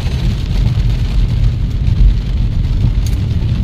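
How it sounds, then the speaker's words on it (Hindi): Steady rain hissing and pattering outside, with a low rumble of traffic or engine noise underneath, continuous and fairly loud throughout. "बारिश बारिश"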